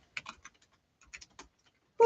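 Fingers tap on a computer keyboard in short, irregular bursts of crisp clicks separated by pauses, close and clear in an otherwise quiet room, with a louder thump at the very end.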